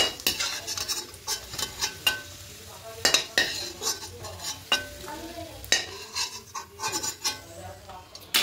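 Vegetables fry in oil in a pan while a metal spatula scrapes and clacks against it in irregular sharp strokes, over a continuous close sizzle.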